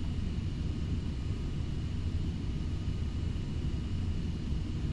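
Boeing 727 jet in a flight simulator on approach to land on runway 5, with a steady low engine rumble and airflow hum that holds constant and fairly quiet throughout.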